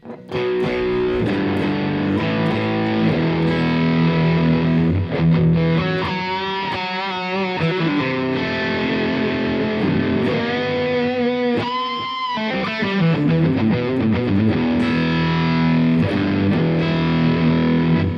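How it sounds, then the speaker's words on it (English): Electric guitar played through a fuzz pedal, thick and fuzzy, chords and sustained notes ringing out continuously with heavy gain. "I say that pedal sounds like it's fuzzy or something"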